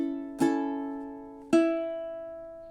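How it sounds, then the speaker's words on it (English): Ukulele playing measure 14 of a song: two plucked-and-strummed chords about a second apart, each ringing out and slowly decaying, close and clear with no talking. "So measure 14 in time is something like this."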